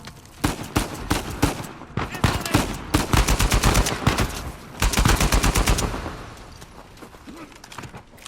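Gunfire from the video game Uncharted 4 comes in dense rapid bursts of loud shots, first in several volleys and then in a sustained string. A quieter tail follows, with game ambience underneath.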